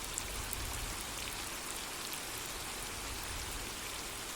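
Steady rain falls in an even, unbroken hiss of countless drops, soft and constant throughout with no voices or other sounds.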